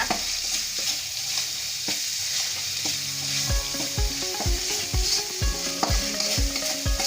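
Spice paste for Betawi-style pindang ikan fries and sizzles steadily in a pan while a utensil stirs it, the scraping strokes turning into a regular series of loud, close sharp knocks in the second half, with no talking.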